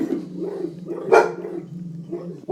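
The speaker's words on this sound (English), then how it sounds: "Yes, that's my dog. That's two of them" Two dogs bark and growl close by in short, uneven bursts, one sharp bark standing out in the middle, with a word spoken briefly among them.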